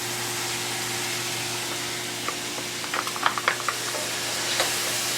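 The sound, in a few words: chopped onions sauteing with browned chicken in pan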